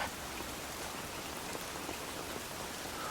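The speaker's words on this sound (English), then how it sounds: "Well, it'll be easier to come in out of the rain, Fancy." Steady rain falling on a wet day, a dense even hiss of drops with no breaks, close and fairly loud, with no voices.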